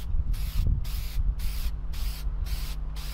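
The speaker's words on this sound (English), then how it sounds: "You just spray a thin coat on." Aftermarket headlight coating sprays from an aerosol can in a series of about six short hissing bursts with brief gaps between them, close and fairly loud, over a low background hum.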